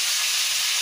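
Salted, turmeric-rubbed prawns frying one at a time in hot oil, giving a steady, close broadband sizzle and hiss with no talk.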